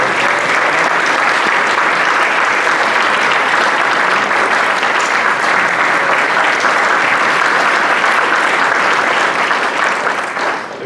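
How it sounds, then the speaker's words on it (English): A hall of fame banquet crowd breaks into loud, sustained applause mixed with cheering, a thick unbroken roar of clapping that holds for about eleven seconds before starting to taper. "Could you stand and everybody could cheer for you?"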